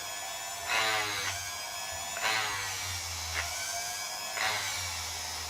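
An Ozito rotary tool grinds plastic in close, repeated bursts, its high whine rising sharply with each pass against the workpiece, then dropping back to a steady motor hum between contacts.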